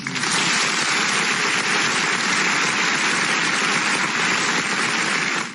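A crowd claps steadily and loudly for several seconds, a dense, continuous wash of hand claps with no talk over it.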